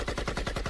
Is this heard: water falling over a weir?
no